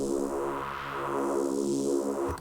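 A Harmor additive synthesizer in FL Studio, building its tone from sine waves, sustains a rich, buzzy harmonic pad with slow sweeping filter movement, steady and alone for a couple of seconds.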